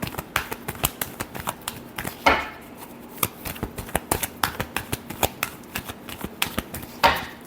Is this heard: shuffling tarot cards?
yes